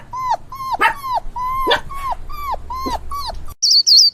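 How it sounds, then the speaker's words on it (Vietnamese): A puppy whimpers in a string of about seven high, whining yelps with short gaps, close and clear, followed by a brief different chirping sound at the end. "Con chó con."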